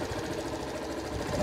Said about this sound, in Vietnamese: Bây giờ mình sẽ nổ máy cho các bạn nghe.